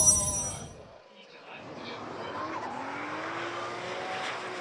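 A drift car at full throttle during Formula Drift Japan qualifying at Fuji Speedway screams at a distance, its engine pitch rising steadily, heard faintly behind a commentator's voice.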